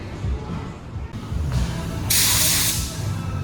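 An aerosol can sprays a coat of clear finish onto a center console in steady, close hissing bursts. The last burst is the loudest and longest.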